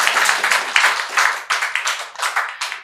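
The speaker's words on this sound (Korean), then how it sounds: "우리 찬양팀에게 우리 격려의 박수 하겠습니다." Church congregation at a Friday worship service claps for the praise team, close and loud, with bursts of many hands clapping in uneven surges that swell and fade several times across the stretch.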